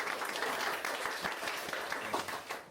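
An audience at a contest mid-presentation meeting gives a round of applause, a steady patter of many claps held at moderate level before easing off at the end.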